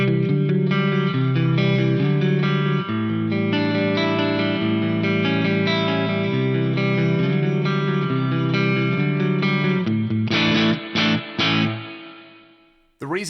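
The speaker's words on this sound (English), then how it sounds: "I'm going to disable the multi-tap delay and just let you hear the amp cab and large spring echo on here." Electric guitar played through an Axe-Fx amp and cabinet model with a large spring echo, sustained chords ringing for several seconds, then a few clipped stabs with spring splash and a sudden cut near the end.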